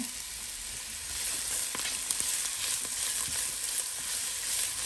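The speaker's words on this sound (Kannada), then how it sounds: "ಇದು ಈರುಳ್ಳಿ ಕೆಂಪಗಾಗೋ ತನಕ ಹುರ್ಕೊಳ್ಳೋಣ." Chopped onions sizzle steadily in a pan for a chicken gravy, a continuous close crackling hiss with small pops and occasional stirring scrapes, no voices.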